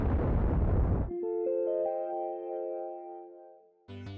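A neutron bomb explosion effect opens with a loud, roaring one-second blast, then gives way to sustained ringing tones that slowly fade before a short final burst.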